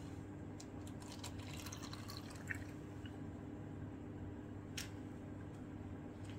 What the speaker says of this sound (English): I'm going to pour this into a cup.